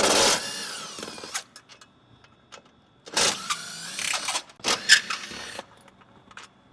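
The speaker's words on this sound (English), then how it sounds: "We're gonna take a Torx 40 and start removing the factory strut bar bolts." Torx 40 driver backing out the factory strut bar bolts on a C8 Corvette, heard as a few bursts of close ratcheting and tool rattle separated by quiet gaps.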